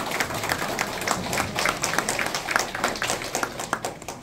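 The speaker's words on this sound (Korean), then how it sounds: "박수 한번 쳐주시죠" An audience at a Saemaul association chairman inauguration ceremony in Jung-gu, Daejeon, applauding: dense, steady clapping from many people in a hall, sustained for several seconds without talk.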